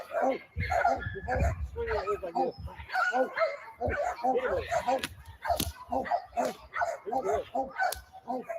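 A dog barks several times, mixed in with steady, close talk from people nearby.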